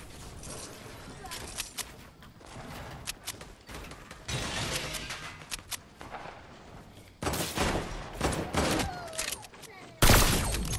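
Gunfire in Fortnite, including sniper rifle shots, as scattered bursts and sharp single cracks with quieter gaps, closing on a loud, close shot.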